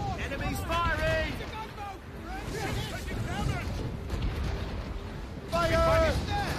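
Enemy turrets firing during a naval battle in the Assassin's Creed Rogue video game, several booming cannon blasts and rumbling explosions under game music and shouted voices.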